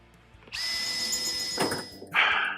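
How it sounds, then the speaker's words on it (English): A power drill whines up to a steady high-pitched spin, then bites into metal with a rougher grinding burst before a short final whir. "we've drilled them all with the 1/8 inch drill bit"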